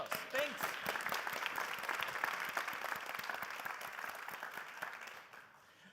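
Audience applause at a science contest forum, dense and steady clapping from a crowd that holds strong for about five seconds and then fades out near the end.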